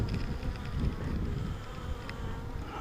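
Honey bees buzz steadily during a nuc hive inspection, a dense, continuous drone close by with no voices.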